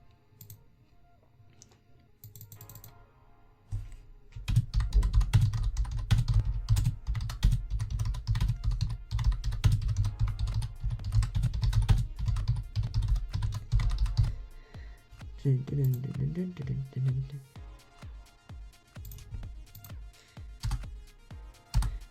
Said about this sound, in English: My typing skills are terrible.